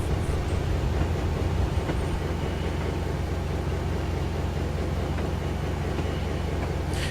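Class 56 locomotive in the Train Simulator game, a steady loud diesel engine drone with rhythmic rumbling, heard alone without speech.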